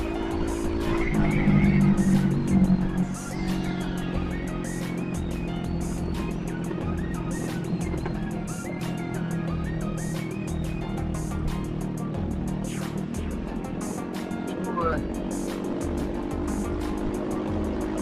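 A Honda Vario 160 scooter rides along a narrow road, its engine droning steadily with rising and falling pitch, wind and passing traffic noise around it.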